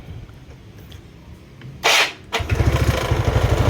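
Yamaha Mio 115 scooter with hard-starting trouble cranked with a short whirring electric-start burst, then firing and catching into a close, rapid, lumpy idle.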